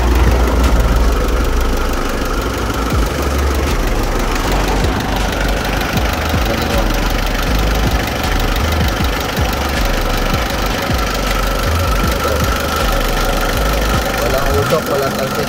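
Nearby, the engine of a 1999 Mitsubishi L200 Endeavor pickup idles in a continuous low, knocking drone, with someone speaking over the running motor.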